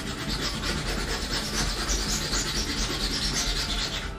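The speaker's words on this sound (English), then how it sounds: "Just putting the sandpaper up to the edge just to get the edge here." Sandpaper scraping back and forth along the edge of a 3D printed Buster Sword replica, a close, continuous rough rasping with steady rhythmic strokes.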